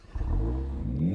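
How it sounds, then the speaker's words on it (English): The four-cylinder engine of a Mercedes-AMG A45 S starts with a brief crank, then settles into a loud, close, rising rev over about a second. "Go on, start the Mercedes."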